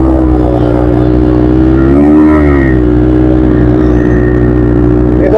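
A motorcycle stuck in deep red sand drones loudly and continuously up close, its engine pitch rising and falling as the throttle is worked.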